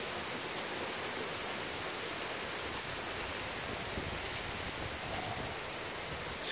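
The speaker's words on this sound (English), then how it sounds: "It's hailing." Hail falling outside during an April storm in Plymouth, Wisconsin, a steady dense hiss of pellets striking surfaces, even and unbroken throughout with no talk.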